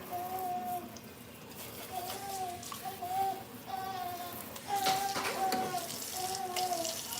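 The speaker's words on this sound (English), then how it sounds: "How I'm standing here washing a bottle" Water running from a sink tap while a bottle is washed, a steady soft hiss with sloshing and rattling, heard alongside a voice speaking in the room.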